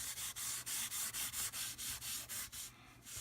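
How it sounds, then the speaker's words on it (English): A Scotch-Brite-like abrasive pad rubbing lightly across the top of a railroad model kit building, making about a dozen steady, evenly spaced scrubbing strokes, close and fairly loud with brief gaps between each pass. "I'm going to use this, it's kind of like a Scotch-Brite pad. And this is lightly going to just hit the top."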